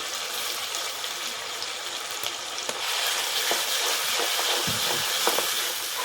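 Ginger-garlic paste with coriander stems and a little tomato frying in a pan for misal on a wood-fired stove, a loud continuous hissing sizzle with occasional stirring scrapes, close up.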